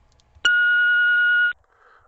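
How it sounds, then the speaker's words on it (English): One steady electronic answering machine beep sounds for about a second, clean and flat-toned, between moments of near silence. "Please leave a message after the beep."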